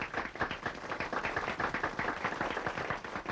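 A person claps their hands in a quick, uneven run of sharp claps, close by and fairly quiet, with the claps alone and no talking over them.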